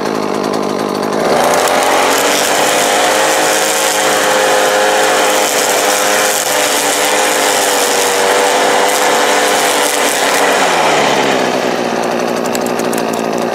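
A Makita EM2600L gas string trimmer with 0.95 line cuts weeds, roaring loudly and continuously up close, its engine pitch holding steady before dropping slightly near the end.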